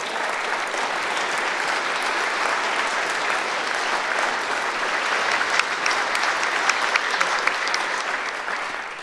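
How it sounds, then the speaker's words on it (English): A large audience applauds during a governor's State of the Commonwealth address, producing dense, sustained clapping that stays loud and even throughout, with a few sharper individual claps standing out near the end. "Let's give a big round of applause for everyone on the state, county, and local level"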